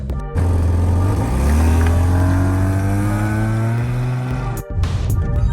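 A Mazda MX-6 with a V6 engine pulls away loud and close, its steady engine note rising in pitch through the gears as it accelerates, then dropping briefly near the end.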